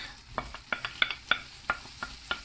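Oven-roasted peppers, cut into small pieces, being stirred into tomatoes cooking in a pan: a soft sizzle under a quick, irregular series of scraping and tapping strokes from the utensil.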